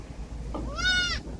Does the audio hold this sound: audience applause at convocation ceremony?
no